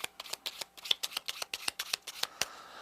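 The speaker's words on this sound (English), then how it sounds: "Another way, of course, would be to shuffle." Playing cards riffled and shuffled close up in a quick run of soft crisp flutters and snaps, about a dozen rapid bursts over a few seconds, with no voice.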